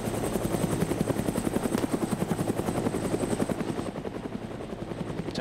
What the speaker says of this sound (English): I could actually kill that chopper.